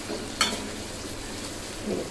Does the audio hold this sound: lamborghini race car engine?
no